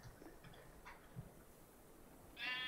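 Sheep bleating in a block-building ocean survival video game, a soft cry early on and a louder bleat toward the end, with other faint game sounds around it.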